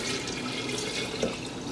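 Warm sweet tea made with sugar pours steadily into a jar for home-brewed kombucha, a soft continuous liquid splash close by with a brief brighter gurgle near the end.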